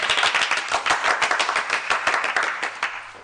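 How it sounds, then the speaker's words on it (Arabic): Studio audience applauding steadily throughout, a dense, close wash of many hands clapping at an even level with no voices over it. "صفقوا عليها"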